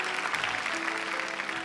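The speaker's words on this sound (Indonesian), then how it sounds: "Tepuk tangan dong buat Asyura," Audience applause for a young contestant named Asyura on a televised hafiz Quran recitation competition stage, a steady dense clapping wash filling the short moment with no voices over it.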